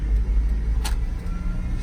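A small GMC Sonoma pickup truck pulls away, its engine giving a low steady rumble that stays close and fairly loud for a couple of seconds with no voices.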